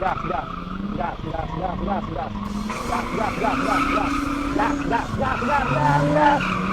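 A car revs and its tires skid and squeal repeatedly during a driving challenge, with engine pitch rising and falling under near continuous talking from people in the car.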